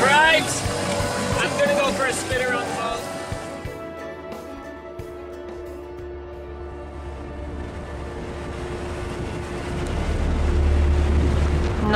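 An outboard engine on an inflatable dinghy on the water that keeps stalling from fuel starvation, heard under talk along with wind noise and a low engine rumble that swells near the end.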